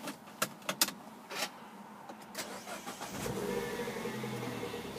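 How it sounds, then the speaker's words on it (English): A manual pepper-white Mini John Cooper Works convertible starts up: a few clicks and short knocks, then the engine catches and settles into a steady, fairly loud idle close by. "if we just get the car started up"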